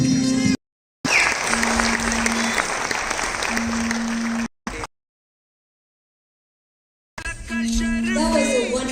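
Audience applause after a dance performance at a Salangai Pooja recital, dense steady clapping from a crowd in a hall, broken by abrupt silent gaps, with a sustained tone and music underneath.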